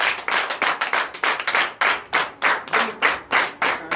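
Church congregation clapping for Jesus during a Sunday service in Comè, Benin: steady, rhythmic unison handclaps, loud and close, with a regular beat throughout.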